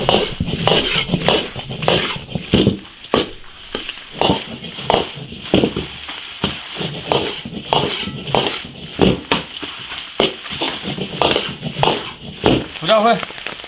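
Braised beef lung stir-fried hard in an iron wok: repeated scraping and clanking of the spatula against metal over a continuous sizzle, close and busy throughout.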